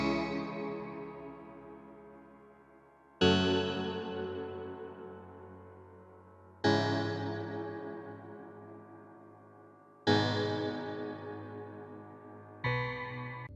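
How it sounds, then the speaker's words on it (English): Layered piano and synth chords from an FL Studio drill beat production, struck in sustained stacks roughly every three seconds, each ringing and fading before the next, with no voices. "piano and the synth together sounds like this"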